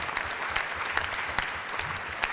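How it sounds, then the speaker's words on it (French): Audience applause for a speaker at a stroke (AVC) conference, a dense steady wash of many hands clapping in a large hall, with a few sharper individual claps standing out. "On peut l'applaudir, hein, vous pouvez"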